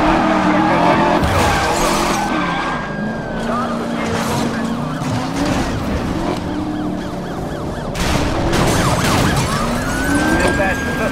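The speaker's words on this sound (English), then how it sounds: "Lost control, heavy crash." In Need for Speed Most Wanted, a car skids with screeching tires and loses control amid engine roar and police sirens, then crashes hard, while a radio dispatcher talks over the chase.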